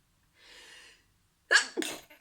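Someone sneezes twice in quick succession, loud and close, after a soft breathy intake; no speech.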